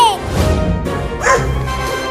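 A big dog in a Hindi comedy cartoon lets out a couple of loud, close barks, a deep woof then a higher yelp, over a background of cartoon music.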